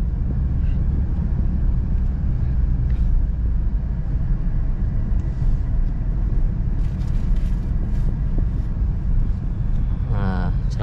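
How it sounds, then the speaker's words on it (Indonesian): A Honda Brio crawling in second gear around 1000 to 1200 rpm in eco mode, past a classic car show: a steady, low engine and road rumble with people talking over it. "Nah, jalan merayap pakai gigi 2 saya."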